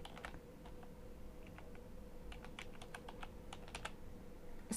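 Typing on a computer keyboard, with quiet clusters of light key clicks over a low steady room hum.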